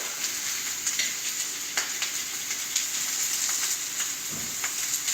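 Garlic frying for a cheese steak with red pepper, a bright continuous sizzle in a nearby pan with scattered crackles and a few faint scraping stirs, no talking.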